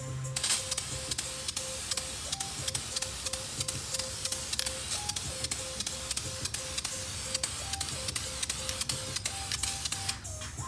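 Spray painting car wheel rims, Nismo rims, with a steady hiss from the can running through most of the stretch; the spray is broken up by short tonal beeps and regular ticking clicks.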